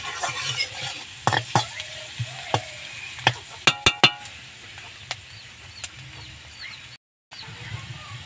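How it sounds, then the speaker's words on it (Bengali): Onions and chillies fry with turmeric in a pan, with a quiet sizzle beneath a series of sharp utensil taps and scrapes against the pan, then a brief gap. "তো দেখো পেঁয়াজটা আর লঙ্কাটা আমার বেশ ফ্রাই হয়ে গেছে।"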